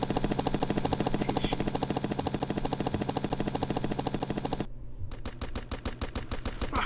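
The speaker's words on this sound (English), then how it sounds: "who's shooting outside my house?" Rapid automatic gunfire in the survival game Rust, sounding just outside a player's house: dense continuous bursts that stop briefly, then resume as sharp, evenly spaced shots.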